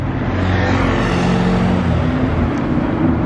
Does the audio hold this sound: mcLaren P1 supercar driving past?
yes